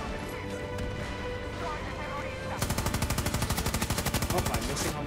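Gunfire in a naval battleship video game: a steady mix of game noise gives way midway to a rapid, evenly spaced burst of loud automatic shots that keeps rattling to the end.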